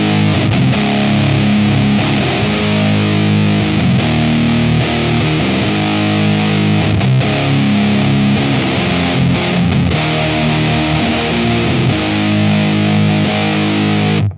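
Electric guitar played through a Minotaur Swamp Lord fuzz pedal with the gain turned far up and mids just above noon, giving a thick, saturated, sustained fuzz tone that plays loud and steady throughout.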